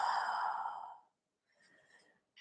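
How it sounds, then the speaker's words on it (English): Ujjayi breathing during yoga in down dog: one long, audible, throaty exhale fading out, followed by softer faint breath sounds, close and quiet. "Keeping your ujjayi breathing."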